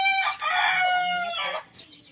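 A rooster crows once, loud and close, a long strained call that trails off into quiet.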